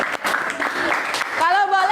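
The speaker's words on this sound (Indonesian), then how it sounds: "Luar biasa, tepuk tangan lagi." Classroom applause during a Hindu religious education lesson, a steady patter of many hands running under a woman teacher's continuous talk, which turns more sing-song near the end.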